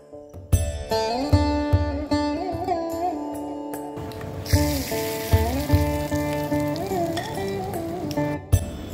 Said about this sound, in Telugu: ఇలా రఫ్ గ్రైండ్ చేసిన తర్వాత బౌలులో వేసి తాలింపు వేసుకుందాం.